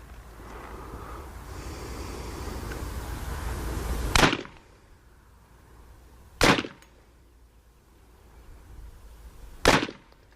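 A Kel Tec Sub2000 Gen 2 carbine fires three sharp single shots spaced a few seconds apart, loud and close, outdoors after a stretch of steady background noise.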